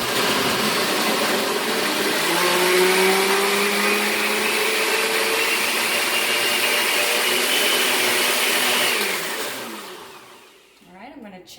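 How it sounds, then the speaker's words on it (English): A countertop blender on its liquify setting purees a mixed berry smoothie, a loud steady motor whir with a rising tone that runs about nine seconds before spinning down and stopping. "And then we'll start the blender. I'm going to use Liquify."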